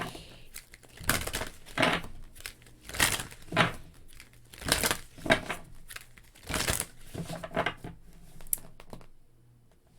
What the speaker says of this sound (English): I'm going to do an ASMR shuffle, and then we'll start the reading.